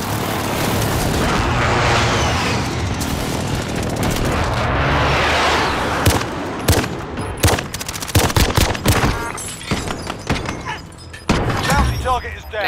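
Precision airstrike in Call of Duty: Modern Warfare rumbles in as a loud roar, then erupts into a dense fusillade of sharp blasts and gunfire bursts that keep cracking irregularly to the end, with radio voice chatter underneath.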